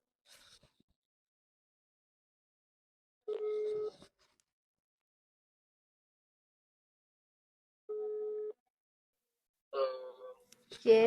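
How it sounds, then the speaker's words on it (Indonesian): Two separate steady telephone tones, each lasting about half a second, sounding clearly in near silence, followed by a short burst of other phone sounds. "Mau telepon Kak Rangga ah?"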